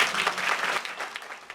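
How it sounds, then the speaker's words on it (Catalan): Applause from an audience filling a packed hall at a Pastorets performance, a dense burst of clapping that thins out and fades over a second and a half. "Aplaudiments entre el públic que omplia el casal a vessar"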